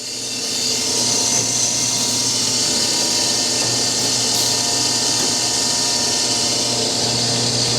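Grinding machine running an automatic grinding cycle, a steady loud mechanical whir with a constant low hum that holds unbroken throughout, no voices.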